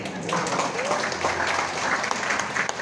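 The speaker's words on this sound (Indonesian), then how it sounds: "Jangan tanggung-tanggung tepuk tangannya." Steady applause from a motivational seminar audience, a dense wash of clapping at moderate level with some voices mixed in.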